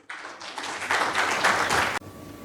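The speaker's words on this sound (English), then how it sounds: "please give a big round of applause to him" An audience at an SME manufacturers and exporters summit in Chennai claps loudly and densely for a speaker, the applause swelling for two seconds before cutting off abruptly.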